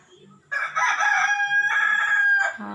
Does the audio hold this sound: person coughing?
no